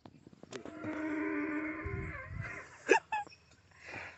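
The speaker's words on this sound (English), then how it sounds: "A donkey's laughing at you." A donkey brays nearby, a long wheezing call lasting a couple of seconds, followed by short honking bursts and breathy snorts, with little else around it.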